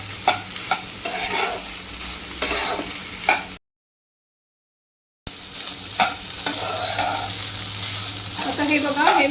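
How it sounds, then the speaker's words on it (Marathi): Sabudana being sautéed in ghee and stirred steadily, a close crackling sizzle punctuated by spatula scrapes and taps. A short stretch of complete silence falls midway. "हे तुपावर आपण चांगलं परतून घेऊया"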